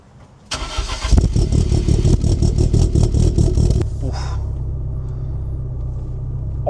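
A Lancia Integrale Evo II engine cranks and catches loudly up close, revving roughly for a few seconds before dropping to a steady, lower rumbling idle.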